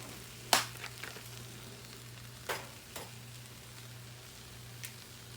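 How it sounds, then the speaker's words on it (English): Eggs fry on a Blackstone griddle with a soft, low sizzle, broken by a few sharp pops and crackles over a steady background hum. No one speaks. "Usually I can fry eggs without putting oil on here if I've been cooking"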